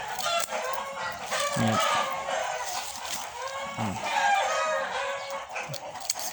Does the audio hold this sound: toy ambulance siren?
no